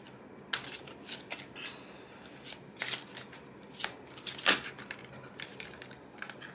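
Tarot cards being shuffled by hand: repeated soft, crisp riffling bursts in an uneven rhythm, close and quiet, with no talking.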